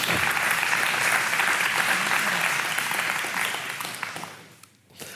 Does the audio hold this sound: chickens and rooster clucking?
no